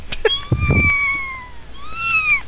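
A house cat lets out two long, drawn-out meows close by, the first one stretched and slowly sliding down in pitch. Soft handling noises come just before it.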